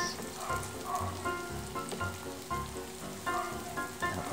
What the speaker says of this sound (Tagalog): para maghalo na po yung sauté ng garlic tsaka onion